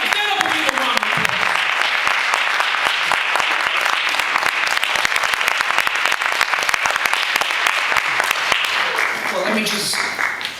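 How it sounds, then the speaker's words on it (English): An audience at a Democratic club meeting in East Cleveland applauds to welcome Mike O'Malley, dense sustained clapping for about ten seconds, loud and close, with some cheering mixed in, fading slightly at the end. "Stand up and give a round of applause."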